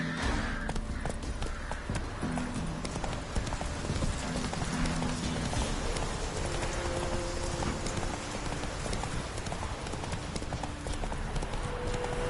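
Horse hooves clip-clop steadily at a gallop in the open-world video game The Witcher 3: Wild Hunt, a continuous rhythmic run heard close and loud over a dense game ambience with a brief whinny.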